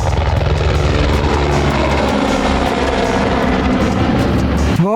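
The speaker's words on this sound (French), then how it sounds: "Hélicoptère au départ." A helicopter at the Tour de France taking off, its rotor and engine roaring loud and steady throughout with a faint rhythmic chop, no voices.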